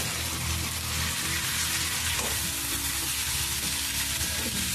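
Potato and cauliflower bhaji sautés in a pan, a steady, close, dense sizzle with faint stirring scrapes, running unbroken without any talk.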